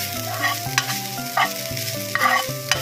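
Cumin, turmeric and curry leaves sizzling in hot oil in a pan, stirred in quick repeated scrapes over a bright, continuous fry, with no one talking.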